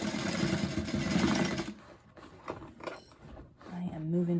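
A sewing machine stitches across the top of a bag, running steadily at first and then in shorter bursts, with someone talking over parts of it.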